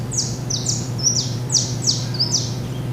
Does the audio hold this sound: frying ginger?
no